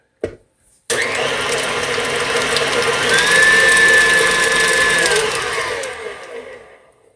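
An electric hand mixer blends yogurt into whipped cream cheese for a grape salad, giving a steady, loud mechanical whir for about five seconds after a brief start-up sound, then winding down.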